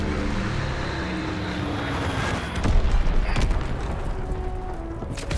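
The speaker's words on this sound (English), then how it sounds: "Enemy bomb incoming." Bombs and gunfire on a battlefield in Call of Duty WW2: a dense, loud wall of explosions and crackling shots, with a heavy blast and sharp bangs near the midpoint over a droning aircraft.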